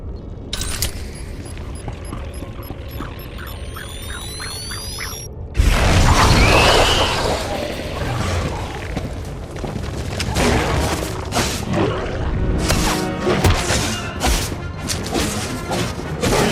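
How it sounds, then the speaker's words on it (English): Detonated charges going off in Star Wars The Old Republic: a sudden loud blast bursts in partway through, then a dense rolling mix of crashes, thuds and clattering debris keeps going, following quieter mechanical clicking and ratcheting. "I heard the explosions when you set off the charges"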